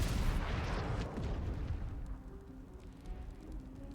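Explosions in the video game Baldur's Gate 3, a heavy booming blast that rolls and rumbles, then fades into a lingering low crackling tail, fairly loud and with no talk.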